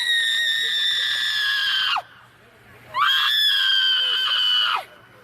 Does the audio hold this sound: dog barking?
no